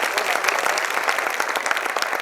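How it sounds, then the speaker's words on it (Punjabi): Loud applause fills a teachers' award ceremony, dense continuous clapping from a crowd close by for a couple of seconds. "ਜ਼ੋਰਦਾਰ ਤਾੜੀਆਂ"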